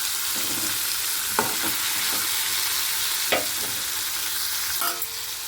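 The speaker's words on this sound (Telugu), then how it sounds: "అవి వేగినాక టమాటా వేస్తున్నానండి చింతపండు కూడా వేసేస్తున్నానండి" Tomatoes and tamarind fry in a pan with a steady sizzle, broken by a few sharper scrapes and clicks as a spoon stirs them, close and fairly loud.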